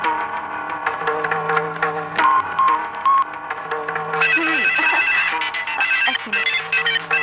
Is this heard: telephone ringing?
yes